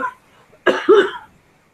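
A single close, hoarse cough, a sharp burst followed by a rougher tail, alone against near silence.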